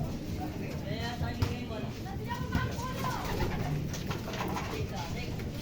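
Pigeons cooing steadily inside a racing pigeon stock loft, several birds layered in a close, continuous murmur of soft rolling coos with faint shuffling in the background.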